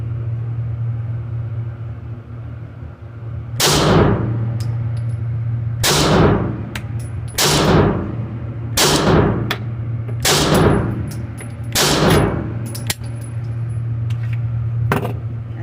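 Glock pistol shots crack out at a shooting range, seven sharp reports at uneven intervals of about one to two seconds over a low steady hum, each loud and close with a short decaying tail.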